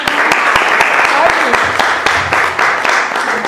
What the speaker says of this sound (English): give them a big round of